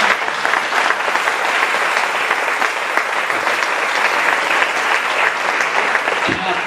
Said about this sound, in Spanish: Denle un aplauso a ellos.